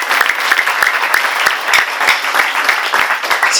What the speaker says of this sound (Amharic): አንዴ አጨብጭቡ ለጌታ